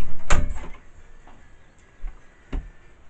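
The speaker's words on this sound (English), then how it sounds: "Come shut the door quickly, guys." Door shut at a golf course, a sharp loud bang followed by a couple of fainter knocks and clicks, heard alone without talk.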